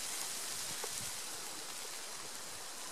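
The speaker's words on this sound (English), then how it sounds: "It's raining now, so it's not easy, this job." Steady rain falls outdoors in a remote spot beside a spindle tree, a constant soft hiss with faint scattered drops close by and no voices.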